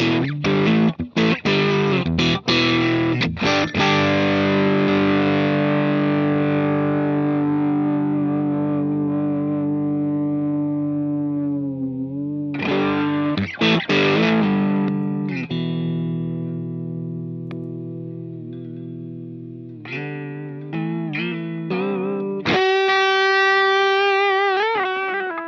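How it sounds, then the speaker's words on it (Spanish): Electric guitar through an Xotic overdrive pedal at full drive: quick picked chords, a long sustained chord fading out, then more riffing ending on a bright held note, played alone. "Este es el sonido solo del full drive."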